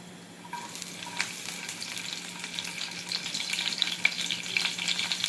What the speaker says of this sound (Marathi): मिरच्या हलक्याशा परतून घ्यायच्या.